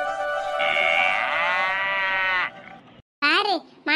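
A cartoon cow moos in a long, loud, drawn-out call, followed after a short silence by two brief rising calls, set in a rural village scene.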